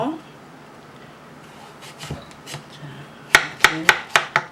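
A knife chops zucchini on a cutting board, five sharp, evenly spaced strikes at the end after a quieter stretch of soft scraping and handling noises; close and crisp.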